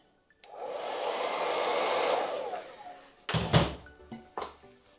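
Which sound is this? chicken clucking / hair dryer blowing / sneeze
hair dryer blowing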